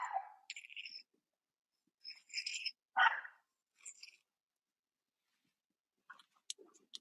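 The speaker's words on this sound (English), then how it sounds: "She's just down there barking." A dog barks a few times from downstairs in the house, short sharp barks in scattered bursts separated by quiet gaps, fairly faint and distant.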